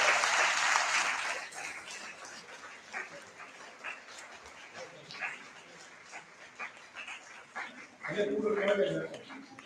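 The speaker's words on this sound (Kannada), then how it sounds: "ಜೋರಾಗಿ ಒಂದು ಚಪ್ಪಾಳೆ ಅವರಿಗೆ ತಟ್ಟಬೇಕು." An audience at a morning punyatithi programme claps for a bhajan group called to the stage. Bursts of applause open and close the stretch, with talk and scattered sounds between them.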